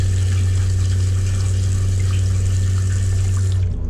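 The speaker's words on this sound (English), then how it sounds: "then we put a little more water in the toilet" Water runs steadily into the bowl of an RV toilet in a 2011 Thor Four Winds Hurricane 32A motorhome, a constant close rushing flow over a low pump hum that stops abruptly near the end.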